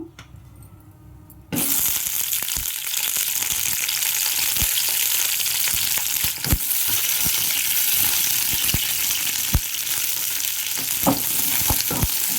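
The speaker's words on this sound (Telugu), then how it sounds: "కొంచెం ఆయిల్ వేసుకొని ఫస్ట్ పచ్చిమిరపకాయలు అయితే ఏం చేసుకుందాం" Green chillies sizzle loudly in hot oil in a pan for ridge gourd chutney. The hiss starts abruptly and continues steadily, close up, with occasional stirring clicks.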